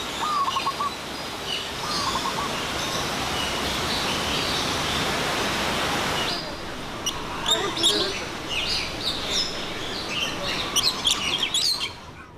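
Birds chirp and call inside a 3,000 square metre walk-through aviary built over a natural valley in a Hong Kong park, steady rushing water-like noise for the first half, then scattered bright tweets over quieter ambience.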